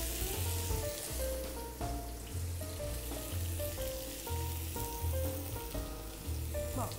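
Vegetables sauté in squid-flavoured oil in a frying pan, a steady close sizzle that runs throughout under soft background music, with no talk.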